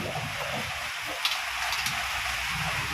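A steady bubbling, hissing boil from a pot of crab dish, with a couple of faint clinks partway through.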